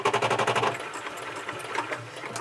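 A sewing machine stitches fabric for a circle bag in a quick rhythmic burst of needle chatter, then slows into softer uneven mechanical clicks and handling noise, close and moderately loud.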